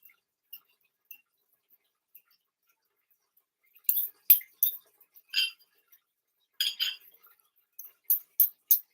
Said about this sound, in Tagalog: Mahugas na lang akong pinggan.